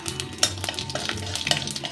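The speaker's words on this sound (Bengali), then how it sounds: "এবার দেব একটা ফোড়ন শুকনো লঙ্কা গোটা জিরে আর তেজপাতা" Dry red chillies, whole cumin and bay leaf hit hot oil with a close, crackling sizzle. Small pops and stirring clicks break through it, with no one talking.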